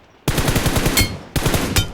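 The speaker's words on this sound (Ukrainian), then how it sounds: "тут хтось стріляє" Two loud bursts of rapid automatic gunfire in a video game, a rattling string of shots, a short pause, then another burst, close and harsh.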